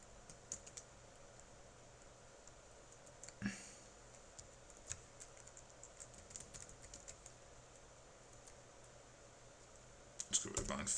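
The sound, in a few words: typing an email address on a computer keyboard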